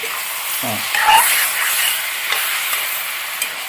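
A spoon stirs Kerala-style chicken stew in a pan just after lemon juice goes in, giving a steady hiss and scraping of liquid with a brief clink near the start and no talking.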